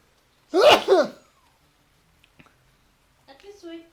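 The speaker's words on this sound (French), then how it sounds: "ce streamer il éternue sans même couper son micro" A streamer lets out one loud, close sneeze in two sharp bursts straight into a live microphone, followed by silence, a couple of faint clicks and a brief soft voice.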